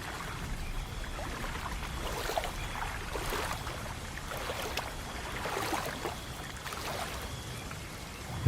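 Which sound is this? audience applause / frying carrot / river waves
river waves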